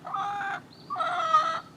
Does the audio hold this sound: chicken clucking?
yes